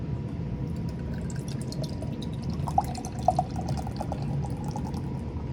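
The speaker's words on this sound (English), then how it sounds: "Pours out into the glass" Treehouse Brewing hazy beer poured from a can into a glass, a continuous gurgling rush of liquid with a few louder glugs and splashes midway, close and steady with no talking.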